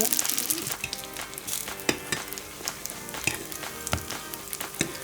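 Bestels, grated potato fritters, frying in a pan with a dense steady sizzle, punctuated by irregular clinks and scrapes as they are turned, no voices.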